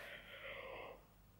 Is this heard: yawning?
yes